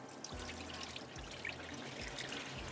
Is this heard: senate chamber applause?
no